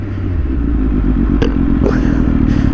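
An Aprilia RS457 motorcycle engine drones steadily and loudly close by, a low continuous rumble with a couple of brief clatters, no talk over it.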